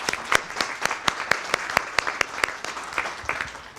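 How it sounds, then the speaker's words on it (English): A modest audience at a community education debate event claps steadily. Individual sharp hand claps stand out over a softer bed of applause at an even, moderate loudness. "Please give her another round of applause."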